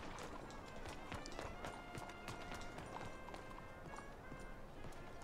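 Horse hooves in Red Dead Redemption 2 beat in a fast, steady galloping clip-clop over a dense bed of game sound, at moderate level throughout.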